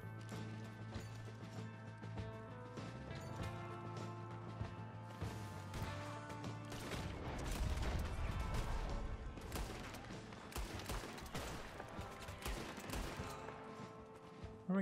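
Scattered gunshots and rapid volleys crackle from a hunting outing in the Red Dead Redemption 2 video game, layered over clattering mechanisms and a steady music bed, fairly quiet overall with a denser burst midway.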